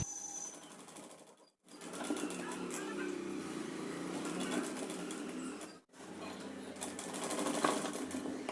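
A sewing machine runs steadily, stitching polyester cloth for a Punjabi dress, in two long continuous bursts separated by brief pauses, close and clear.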